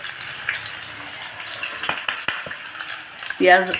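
Chopped onion and green chili fry in a pan with a steady, close sizzle and a few stirring scrapes, and a voice is heard briefly near the end.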